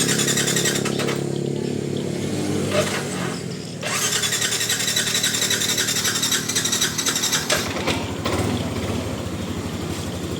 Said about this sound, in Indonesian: tapi nanti setelah kedua ketiga starter dia udah cukup bagus dan mesinnya juga halus nih teman-teman